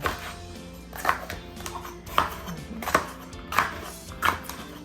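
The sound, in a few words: knife cutting up ingredients for catfish tomato stew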